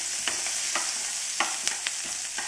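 Onion frying and being stirred in a pan for beetroot chutney, a steady sizzle with soft scraping strokes of the spoon at irregular intervals.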